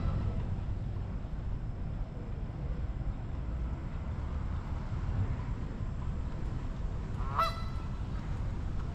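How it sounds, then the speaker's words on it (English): A goose gives one brief, sharp honk late in the clip, heard outdoors over a steady low rumble of background noise. "Shut up, Goose"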